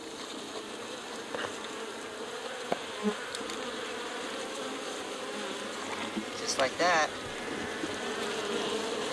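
Honeybees from a Gretchen Bee Ranch nuc hive in a farm bee yard drone in a steady, close swarm hum, with a few brief bird-like chirps and clicks, while someone speaks a few words briefly.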